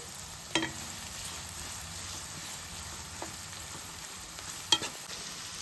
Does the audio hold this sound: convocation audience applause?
no